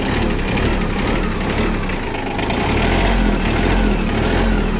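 A mini tractor's small engine idles steadily and loudly, a continuous rumbling drone with a slight rhythmic chug throughout.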